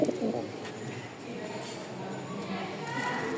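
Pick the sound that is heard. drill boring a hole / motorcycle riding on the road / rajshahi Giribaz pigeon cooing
rajshahi Giribaz pigeon cooing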